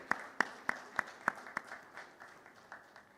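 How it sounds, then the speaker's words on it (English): A small audience at a brand-themed panel event claps for an arriving panelist: sharp, separate hand claps in a steady rhythm, about one every third of a second, fading and thinning toward the end, with no talking. "Please welcome Sanjay with a round of applause."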